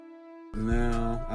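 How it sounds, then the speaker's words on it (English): A BBC Symphony Orchestra horn sample plays a held tone, then a dense layered chord swells in with low rumble, loud and sustained over a short stretch. "But it's just the same horn from BBC Symphony Orchestra."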